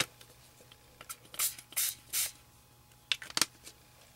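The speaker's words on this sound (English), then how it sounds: "So I'm going to spray this a few times" Several short hissing bursts of ink spray mist onto a card, a cluster of three then a couple more, fairly close with quiet pauses between.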